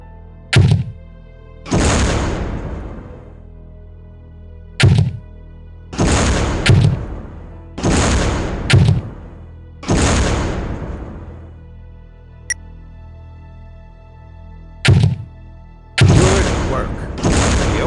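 OICW grenades are fired at a brick wall in the video game Soldier of Fortune 2 Double Helix. Each launch gives a sharp, close thunk, followed by a heavy booming blast that fades, repeated several times.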